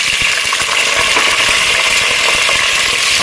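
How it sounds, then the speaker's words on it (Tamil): Bay leaf, shallots and green chillies go into hot oil for prawn biryani and set off a loud, continuous sizzle and crackle, with scattered pops throughout. "எண்ணெய் சூடாயிருச்சுங்க பிரியாணி இலை போட்டுக்கலாம் சின்ன வெங்காயம் அப்புறம் பச்சை மிளகா"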